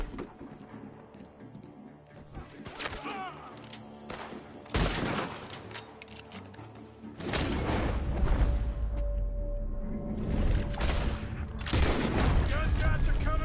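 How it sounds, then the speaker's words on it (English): Gunfire in the video game Red Dead Redemption 2 breaks out around a bar as sharp shots and booming blasts. Scattered reports come first, then a dense, loud barrage, while people talk under the shooting. "Gunshots are coming from that bar."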